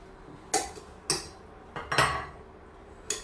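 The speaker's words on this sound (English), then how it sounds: "Folding in some cream cheese." Cream cheese being folded into creamy polenta in a pot, giving a few separate, sharp utensil knocks and scrapes against the pot spread over a quiet stretch, with no talking.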